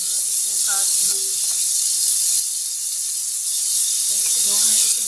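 Chicken macaroni ingredients sauté in a pan with a steady, loud sizzling hiss, while a voice speaks briefly over it at the start and end.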